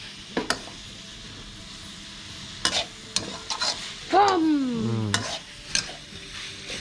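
Beef and holy basil being stirred in a hot pan for a stir-fry, scraping and sizzling in bursts with a brief voice-like sliding tone partway through.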